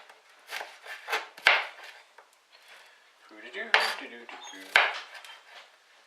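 A knife slices an onion on a board in uneven bursts with sharp taps and clinks, fairly close, with no talking.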